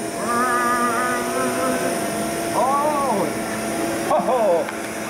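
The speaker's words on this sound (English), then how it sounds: "So I turn on the sweeper. I'm going to go over the spot of carpet." An Eden PURE vacuum cleaner running over carpet at a tradeshow drones steadily with a whining motor hum while a person talks over it, voice rising and falling.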